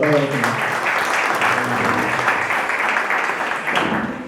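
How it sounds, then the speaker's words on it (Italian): A conference audience in Roccavaldina applauds the mayor with sustained, even clapping for several seconds that tapers slightly at the end, while a voice briefly overlaps at the start. "Facciamo un applauso al sindaco."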